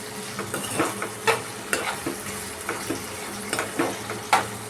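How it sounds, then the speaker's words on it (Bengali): Potatoes and green chillies stir-fried for a salmon fish curry, a steady sizzle broken by repeated scraping strokes of a utensil against the pan, close and moderately loud, with no voices. "এবার এটাকে একটু কষাতে হবে"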